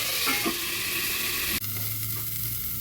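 Broccoli is stirred and fried in a pan, giving a dense, continuous sizzle with a brief scrape early on and an abrupt shift to a quieter, hissing fry midway; no voices.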